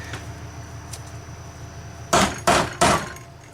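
Tabs on a transmission output shaft lock nut bent during an F4A42 transmission teardown: three sharp metallic hammer strikes in quick succession, loud and close, after a quiet shop hum.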